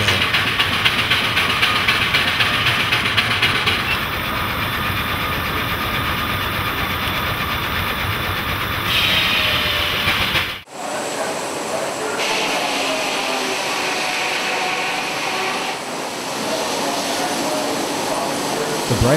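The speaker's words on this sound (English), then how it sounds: "Many of the engines at our show were built up during the weekend and supply power for the mill." Vintage show engines drive a sawmill at an engine show, making a loud, continuous mechanical drone. A short break cuts in midway before the running machinery picks up again.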